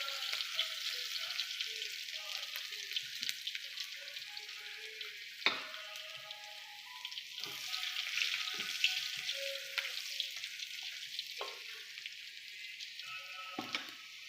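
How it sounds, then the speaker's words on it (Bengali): Garlic fries in a pan, a close crackling sizzle with rapid popping and occasional sharp clicks of a utensil against the pan across a long stretch. "রসুনটাকে আমরা ভাজে নেব।"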